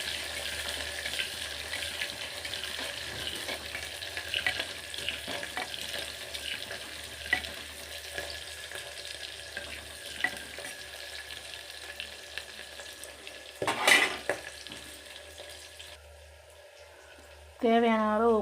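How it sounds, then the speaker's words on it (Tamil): Chopped onions and green chillies sizzle in hot oil with mustard and fenugreek seeds for a fish curry, a steady frying hiss with stirring, louder bursts near the end. "இப்போ வெங்காயம் பச்சை மிளகா கட் பண்ணி வச்சுருக்கேன், அதை போட்டுக்கலாம்."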